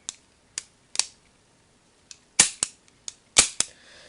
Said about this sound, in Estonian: Lisaks sellele on relval ka topelttööga päästik, ehk siis kui te vaatate päästikut, siis siin taga liigub see tagasi, nagu päris relval.